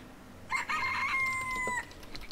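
A chicken in the farming video game Farming Simulator 2013 lets out one clear, drawn-out crowing call over a low background hiss.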